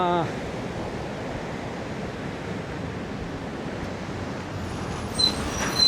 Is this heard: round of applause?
no